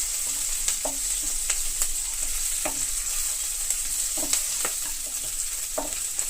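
Curry ingredients sizzle steadily in a hot pan while a spoon stirs and scrapes them, sharp clicks of the utensil against the pan rising over a continuous close frying hiss.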